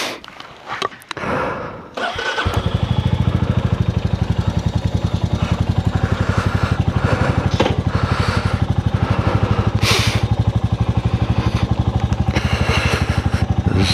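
A Royal Enfield Meteor 350 motorcycle pulls away and rides steadily, its single-cylinder thump loud and close in an even, rapid rhythm with wind noise, after a brief rustle at the start.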